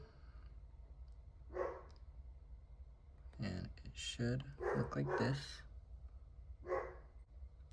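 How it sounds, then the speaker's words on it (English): A dog barks indoors during a bracelet-making session, a couple of short, moderately faint barks set apart, with a person talking in between. "I'm sorry if you heard my dog barking"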